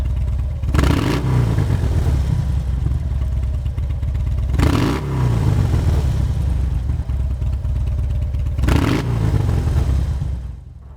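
A V-twin motorcycle engine idles up close, then is revved in three sharp throttle blips about four seconds apart, settling back to a low idle after each.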